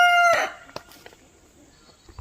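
A rooster crows loudly at the start, with harmonic tones, and then a few faint clucks from backyard chickens follow in quiet surroundings.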